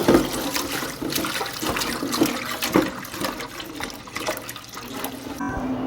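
Water runs and splashes steadily as magur catfish, rubbed with salt and turmeric, are washed by hand, with no talking.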